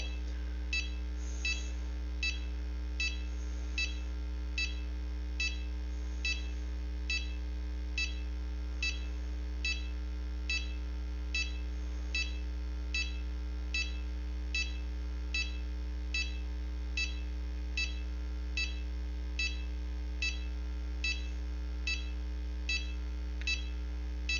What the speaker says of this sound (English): If the animal didn't breathe within 30 seconds, it alarms me there's no breath.